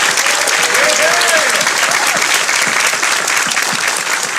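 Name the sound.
audience applause for hackathon participants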